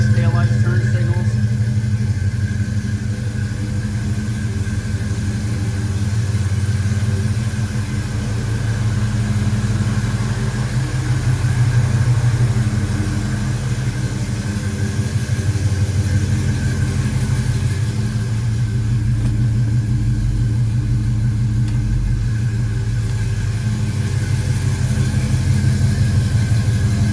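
A 1966 Ford Fairlane GTA 390 classic muscle car engine idles continuously, a deep low throb holding even throughout with faint mechanical ticking on top.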